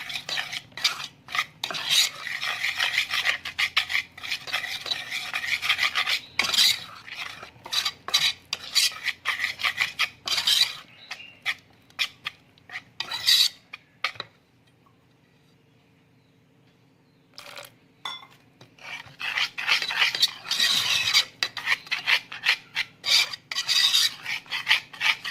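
Cauliflower bajji batter with rice flour being mixed in a bowl, rhythmic rasping and scraping strokes of a utensil, close and loud, stopping briefly midway before resuming.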